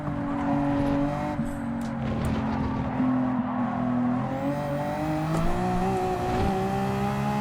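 A Gran Turismo 7 race car cruising steadily in 8th gear: a smooth, sustained engine drone at near-constant pitch, loud and alone for the whole stretch.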